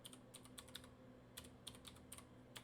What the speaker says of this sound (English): we simply click on the Add Guests box here and type in the person's email address